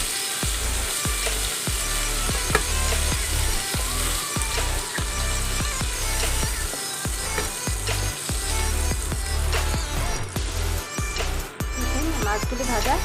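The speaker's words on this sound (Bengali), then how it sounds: "পরিমাণ মতো তেল দিয়ে নিলাম মাছগুলি ভাজার জন্য" Fish pieces fry in hot oil, producing a loud, dense, continuous sizzle close up, punctuated by regular sharp crackles and spatters throughout.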